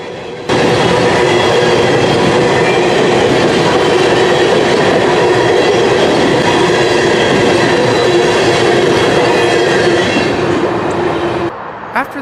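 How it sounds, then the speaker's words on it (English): A Norfolk Southern grain train rolls past up close in Columbus, its loud, continuous rumble and rail clatter filling about eleven seconds before fading away. "After the grain train got on by"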